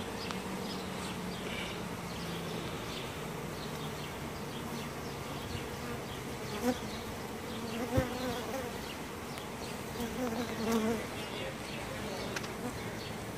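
Honey bees buzz steadily around an open hive box, a dense continuous drone of many insects close by, with occasional faint talk beneath.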